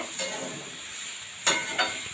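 Vegetables, including home-grown Malabar spinach greens for a ghonto, are stirred in a frying pan. A soft steady sizzle is broken by a few quick spatula scrapes near the middle and end.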